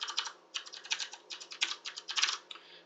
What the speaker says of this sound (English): so I'm typing in Amazon.com